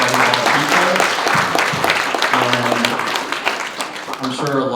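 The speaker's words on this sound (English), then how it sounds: "I'd love to give Garrick and the whole team a round of applause for putting this together" A round of applause at an in-person real estate event, a crowd clapping loudly and steadily while a voice talks over it.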